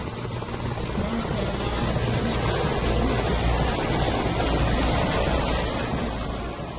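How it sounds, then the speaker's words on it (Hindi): Chinook and Apache military helicopters fly past during an Indian Air Force Day parade salute, producing a loud, steady, broadband rotor roar that holds throughout with slight swelling in the middle. "चिनूक और अपाचे हेलीकॉप्टर सेना प्रमुख को"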